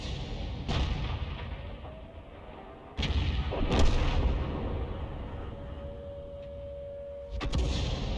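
M44 self-propelled artillery firing in a video game: a few heavy booming shots echo out over an ongoing rumble, with one loud blast near the start and another partway through.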